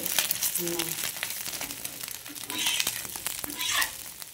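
Hot oil sizzling and spitting in a pan while frying, a crackling hiss with scattered pops and splatters, and people talk over it.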